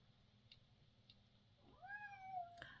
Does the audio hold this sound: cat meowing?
yes